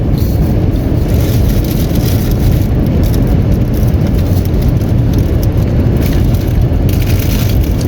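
Road traffic in Sacramento sounds as a loud, steady roar of passing vehicles, close by and continuous, with no voices over it.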